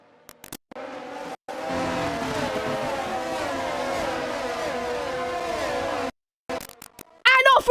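Sim race cars pull away together at a safety car restart at Monza, a sustained loud engine drone with shifting pitch for several seconds, then brief gaps and a sharp rising whine at the end.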